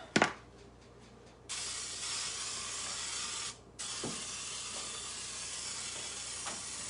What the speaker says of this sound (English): So there's pressure is coming. So we're going to spritz this.